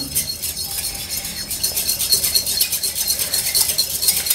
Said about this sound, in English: And I'm just using a whisk and a bowl in the normal way.